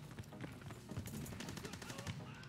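Rapid automatic gunfire from Call of Duty WW2 rattles in dense bursts, joined by scattered single shots and some overlapping fire. It sounds fairly close, and a player's voice comes in faintly underneath.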